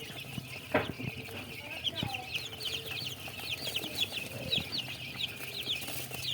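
Tiger breed chickens on a farm in Jamalpur, Bakshiganj, including three-day-old chicks, cluck and peep repeatedly in a busy, close chorus, with a few sharper calls and some background noise.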